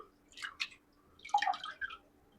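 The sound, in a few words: washing vegetables in water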